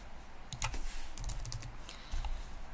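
A payment amount is typed on a computer keyboard, a quick run of close, crisp key clicks in irregular bursts with short pauses between, no talking.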